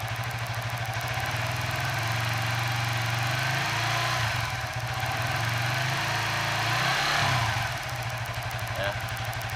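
A Suzuki FU 150 FI motorcycle engine running with its headlight on, a steady close mechanical drone that rises in pitch as the throttle opens, while someone talks over it.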